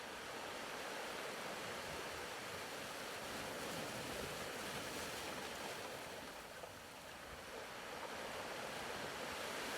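Ocean waves wash in a steady, soft, continuous roar of surf, faint and distant with no voices over it.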